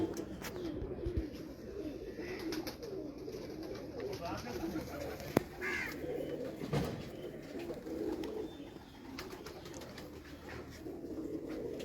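Pigeons bred for competition cooing in a loft, a soft continuous murmur of low coos with a few sharper calls, under a voice talking throughout.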